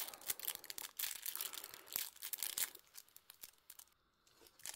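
Crinkly tearing and crumpling of plastic packaging as a Yu-Gi-Oh starter kit is ripped open, close and continuous for several seconds before fading out.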